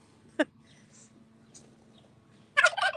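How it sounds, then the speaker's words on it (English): Big turkeys gobbling outdoors: one sharp call early on, then a louder burst of rapid gobbling at the end over a quiet background. "I don't think these big turkeys would ever attack me"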